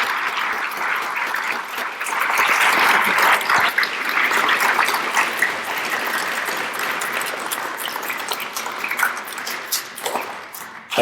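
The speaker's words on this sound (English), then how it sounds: "if we'd have a round of applause from our students to our veterans" Students at a school Veterans Day assembly applaud veterans, a dense, steady roomful of clapping that holds for about ten seconds with no talking over it.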